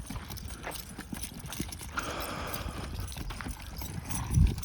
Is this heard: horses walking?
yes